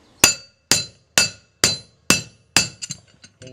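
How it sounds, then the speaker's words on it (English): A hammer strikes the front universal joint of a Dodge Ram 1500 six times in an even, steady rhythm, each blow a sharp, loud metallic clang, and the last one is followed by a short rattle as the part shifts. "We'll just take our hammer and hit it some more."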